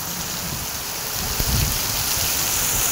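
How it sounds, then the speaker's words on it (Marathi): Heavy rain pours down in a strong wind in the Konkan countryside, a dense continuous roar of falling water with a low rumbling gust building midway, loud and unbroken, with no voices. "लय डेंजर वारा आहे, बाहेर पडू नका, लय पाऊस आहे इकडं."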